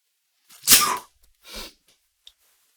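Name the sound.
sneeze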